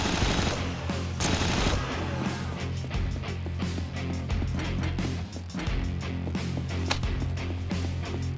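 Rapid gunfire in the retro first-person shooter Hellslinger, dense volleys of loud shots in quick bursts with brief pauses, continuous through the stretch of play.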